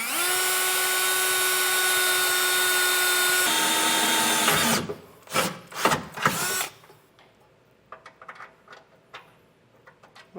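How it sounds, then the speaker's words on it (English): A power drill bores out a hole in a 2023 Toyota's chassis for a Hellwig adjustable rear anti-sway bar, a loud steady whine for several seconds, then shifting pitch before short bursts and stops, followed by faint clicks and handling noises. "So we'll go ahead, we'll get this drilled out."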